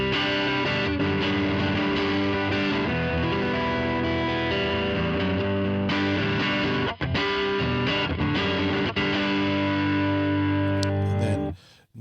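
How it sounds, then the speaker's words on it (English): Squier Stratocaster electric guitar on its neck pickup, played through distortion and effects as a steady run of sustained chords and notes, loud and close for about twelve seconds with no talking. "So on a Strat, I think the best pickup is the neck pickup."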